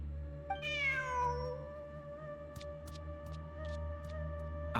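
A video game cat gives one clear, rising-then-falling meow early on. It sits over a steady bed of soft ambient game music with faint chimes.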